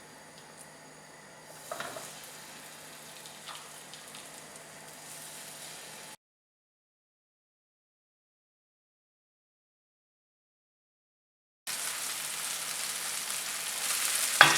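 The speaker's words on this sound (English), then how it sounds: "Now I'm going to place the fish into the pan." Fish frying in butter in a pan over a medium-high flame, a steady soft sizzle with a brief crackle near the start, cutting out to silence mid-way before the sizzle returns, ending in a sharp clatter.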